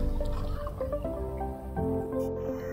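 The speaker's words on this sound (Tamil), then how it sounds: "இப்போ வந்து கொலகொலான்ட்ருக்கு." Water with vermicelli for semiya chicken biryani bubbling in a pot, a steady close simmer of small pops and gurgles, no talk.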